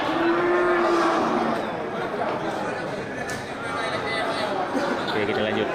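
Goats in a livestock pen held for Qurban sale, a few bleats and low animal calls mixed into busy crowd chatter and someone talking nearby.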